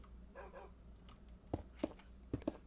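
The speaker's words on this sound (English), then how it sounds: "We have an actual puppy now." Puppy dog in the Minecraft video game lets out several short, sharp barks in the second half, arriving in close pairs after a quieter stretch of faint game ambience, with no talking.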